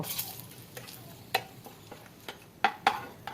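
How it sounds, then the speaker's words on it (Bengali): Dried chilies fry in oil with a soft background sizzle, broken by sharp, irregular clicks and scrapes of a utensil against the pan. "ওই তেলের ভিতরে আমি কয়েকটি শুকনো মরিচ দিয়ে আমি ভেজে তুলে নিব"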